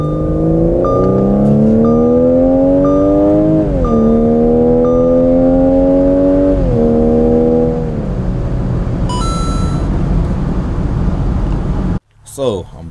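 A Genesis Coupe BK2 engine revs up through gears with rising, harmonic-rich tones, then settles into a steady drone before cutting out abruptly near the end.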